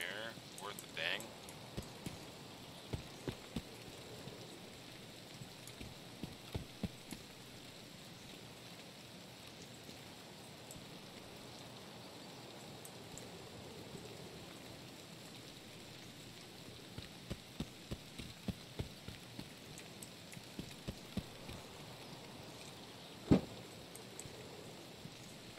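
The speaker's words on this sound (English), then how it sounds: "Can't hear anything over the rain." Steady rain patters down outdoors in the early morning, a constant wash of drops with scattered louder taps and splashes, fairly faint and continuous, with no voices over it.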